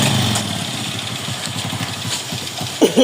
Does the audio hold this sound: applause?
no